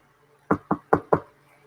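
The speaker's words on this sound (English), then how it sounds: "Mr. Robbins, you will begin by knocking at the door" Four sharp knocks on a door in a quick, slightly uneven rhythm, close and clear against a quiet room with no talking.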